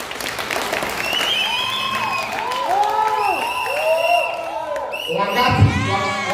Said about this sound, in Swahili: Wapo makofi ya Mary wa Heze ndogo.